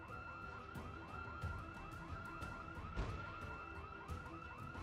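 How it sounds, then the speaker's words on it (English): Alarms wail in the Project Zomboid video game, a loud siren pulsing in fast repeating sweeps over a busy background of clattering game sounds. "So there's the alarms."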